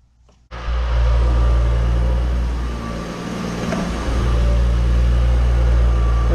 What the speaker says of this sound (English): go ahead and turn the vehicle on to make sure it idles and runs okay